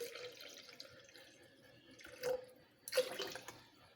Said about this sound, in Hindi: और इसमें 1 गिलास पानी डालूँगी।